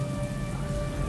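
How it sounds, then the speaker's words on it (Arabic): Steady rain in a horror story, a dense continuous patter at moderate loudness with a faint tonal hum beneath, no voices. "أكيد ده صوت المطر"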